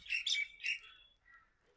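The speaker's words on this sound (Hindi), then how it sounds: "चिड़िया बोल रही है यार कोई बड़ी" A large bird gives a loud, close, shrill call of two or three quick bursts, then a fainter trailing note, with no talk over it.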